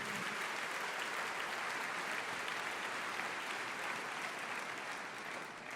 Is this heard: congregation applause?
yes